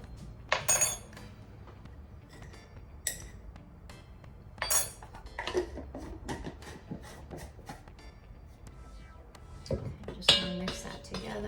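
A metal utensil clinks and scrapes against a bowl while baking powder is mixed into flour for sourdough tortillas, in a series of sharp, close taps spread irregularly across the clip with quiet gaps between them.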